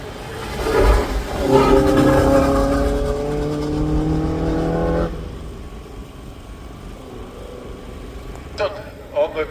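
A 1000cc OMS hillclimb race car screams up the course nearby, engine climbing through several rising revs before fading into the distance, with a voice speaking over the passing car.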